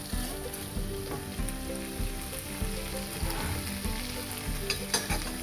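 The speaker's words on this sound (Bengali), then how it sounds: "এবারে আমি এর মধ্যে দিয়ে দেবো গরম জল।" Mutton curry sizzling in a pan as boiling hot water is added, a dense close crackle and hiss with repeated stirring knocks, continuous and without talk.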